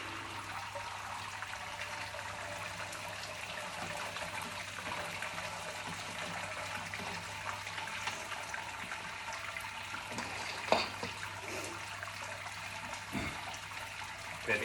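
While beer is brewed, wort drains during the sparge as a continuous running, trickling stream of liquid over a steady low hum. It is moderately loud, with a couple of faint knocks near the end and no speech.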